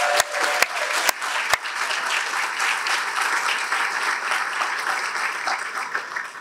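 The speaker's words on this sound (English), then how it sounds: "Please give them all a round of applause" Audience at a Daughters of Greatness presentation applauding the sponsors, sustained steady clapping from a crowd, opening with a few sharp nearby claps.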